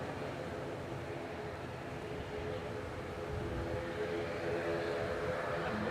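A Ryanair jet arriving from Béziers at Manchester Airport gives a moderate rumbling engine noise with faint whining tones, rising slightly in loudness over several seconds with no voices.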